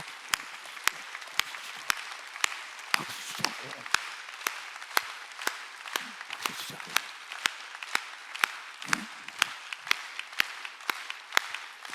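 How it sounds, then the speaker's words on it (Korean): Church congregation at a Korean Sunday worship service clapping hands in a steady, regular rhythm of sharp claps, moderately loud, with faint voices underneath. "박수치자"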